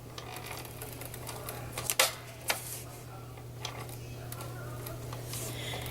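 An ATG tape gun lays adhesive tape along an edge with faint mechanical ticking and a few sharp clicks and snaps over a low steady hum, heard fairly quietly.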